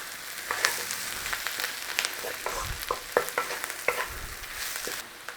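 Sausage and sauerkraut hash stirred through in a frying pan, a continuous close sizzle broken by scattered spatula scrapes and taps.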